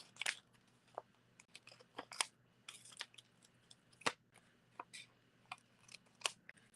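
Scissors snip through vinyl pieces for a handmade card, a quick irregular series of sharp, close cuts with short pauses, with no talking.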